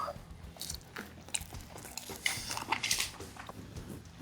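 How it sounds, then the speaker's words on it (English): Crunchy braaied pork belly crackling being bitten and chewed up close, a series of crisp crunches and biting sounds over a few seconds with faint background noise. "That crackling is gone already. You heard the crunch."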